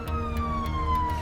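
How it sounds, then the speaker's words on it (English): An ambulance siren wails steadily and loud, a sustained sweeping tone carrying a rescue crew taking a child to a children's hospital, heard alone without voices. "Rich and Ben leave Hassan with the ambulance crew to be taken to Birmingham Children's Hospital for a thorough assessment."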